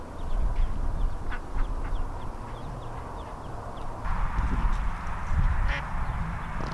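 A duck with young ducklings on a cattle farm, repeated high peeping and quacking calls over a dense, noisy outdoor background.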